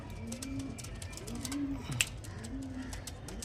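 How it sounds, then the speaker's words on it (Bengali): Pigeons coo softly nearby, with several low, rolling coos repeating at an unhurried pace against a quiet background and one brief tap midway. "শুধু পায়রা দেখো চারটার মধ্যে দিলাম পায়রা"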